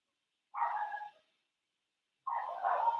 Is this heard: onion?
no